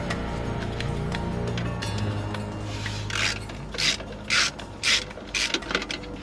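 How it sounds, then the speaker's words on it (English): Hand tools work on a clamp on a Volvo D13 truck engine, giving steady metallic clicking and ratcheting over a low hum, then several louder rasping scrapes toward the end, close up. "I'm gonna go ahead and remove this clamp"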